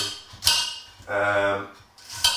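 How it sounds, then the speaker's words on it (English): A knife finely slicing and then chopping a red onion on a board, giving a few distinct sharp knocks with a longer scraping stroke between them, close and moderately loud. "we're going to finely slice it and then chop it up"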